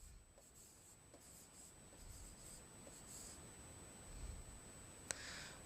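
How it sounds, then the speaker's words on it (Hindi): Sanskrit words being written by hand on a board during a language lesson: faint, soft scratchy strokes with short pauses between words, quiet and alone without speech. "हाँ ये ऐसे लिखना है एका प्रसिद्धा"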